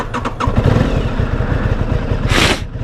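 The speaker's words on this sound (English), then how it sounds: "So let's get a cold start going" Aprilia Tuono 660 Factory motorcycle with a parallel twin engine, 2023 model, cold-starting: a brief starter clatter, then the engine catches into a steady, loud, throbbing idle up close, with a short hissing burst near the end.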